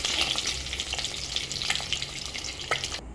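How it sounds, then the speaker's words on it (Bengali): Eggs fry in oil in a pan with a soft, steady sizzle and a few light crackles and clinks, no talking. "ডিমগুলো ভাজা হয়ে গেছে একটু হালকা, বেশি ডিম ভাজবো না কারণ শক্ত হয়ে যাবে।"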